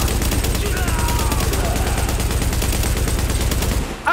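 Sustained LMG fire from Tom Clancy's The Division, a loud, rapid unbroken stream of shots lasting nearly four seconds before cutting off abruptly, with a voice talking faintly underneath.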